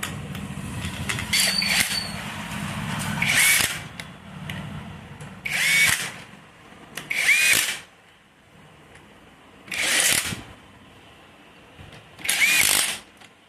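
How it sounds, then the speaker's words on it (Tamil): A power tool in repeated short bursts tightens a bolt on a motorcycle engine during a self-start repair, five loud whirring pulses separated by quieter pauses, with no talk. "இப்போ போல்ட்டை டைட் பண்ணிட்டு ஸ்டார்ட் பண்ணி காமிக்கிறோம் பக்காவா."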